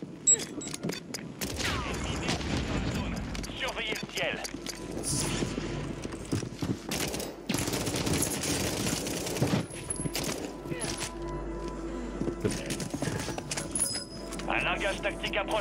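Bursts of gunfire from a weapon in the video game Rebirth, rapid shots and booms layered with game effects, with a voice talking over much of the action.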